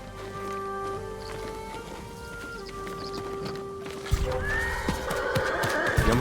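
Horses neigh and whinny near the stables in the Ghost of Tsushima video game, with a clear whinny rising midway and hooves clopping faintly over steady game ambience; no one talks.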